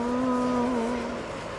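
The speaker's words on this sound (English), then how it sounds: "but still get the engine howl." Jet airliner engines howl at Heathrow airport: a steady, loud tonal whine with strong sustained pitched bands that dips slightly in pitch, heard up close with no talking.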